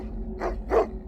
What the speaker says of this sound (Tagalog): Muli nga ay umangil ang mga aso ni Anita.